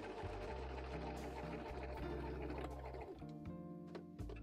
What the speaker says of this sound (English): I did a single seam to attach the first two cup pieces